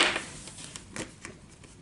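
Oracle energy cards shuffled during a tarot-style reading, a few quick papery riffles and flicks, the loudest burst at the start and lighter ones after, close and fairly quiet with no talking.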